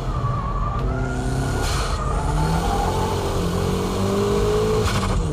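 Car drifting through corners on a wet track with the e-brake pulled, engine droning and rising in pitch steadily, with tire and spray hiss, at moderate level and without speech.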